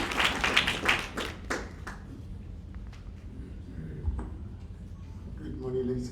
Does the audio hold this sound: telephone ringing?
no